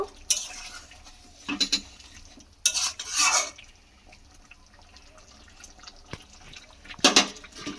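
Garam masala and chopped coriander being stirred into a soybean and egg curry, a spoon scraping and clinking against the pot in several short bursts separated by quieter gaps, close by with no talking.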